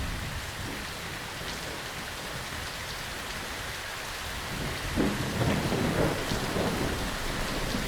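Steady rain hisses through a rainstorm in Fallout 4's Fallout London mod, with soft low rumbles of thunder building near the end; no one speaks.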